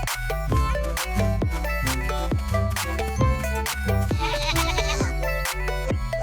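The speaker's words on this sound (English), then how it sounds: "G is for goat." A goat bleats in a cartoon village, repeated wavering calls set against rhythmic, plucky background music.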